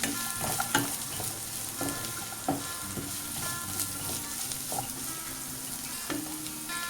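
Ten small shallots and two large green chillies sizzling in a pan for Kerala beef fry, a continuous fizzing crackle with repeated soft spatula knocks as they are stirred, no voices.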